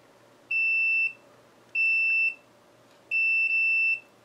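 A multimeter continuity tester probes the circuit of an Icom IC-260A radio, giving three clear, high-pitched electronic beeps, each about half a second long, the last one briefly broken, over a quiet background.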